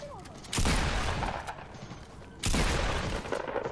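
Two loud, sharp bursts of gunfire in a shooter game, each ringing out with a rumbling tail, close and dominant with little else around them.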